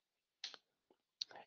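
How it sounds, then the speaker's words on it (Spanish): Computer mouse clicks in a quiet room: three short, sharp clicks spaced unevenly over about a second, faint and with no voices. "Hago clic aquí."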